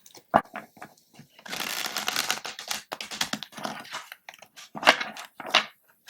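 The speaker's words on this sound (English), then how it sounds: "What a great shuffle." Tarot cards being shuffled, a dense papery riffle in the middle with scattered taps and shuffling sounds around it, close by.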